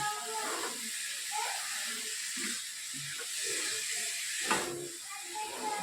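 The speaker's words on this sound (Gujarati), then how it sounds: "આવી રીતે ઘીમાં સરસ આપણે પહેલાં શેકી લઈએ" Food roasting in ghee gives a steady, soft, high sizzling hiss that runs the whole time at low volume, while a voice talks over it.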